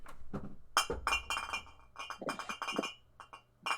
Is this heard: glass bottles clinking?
yes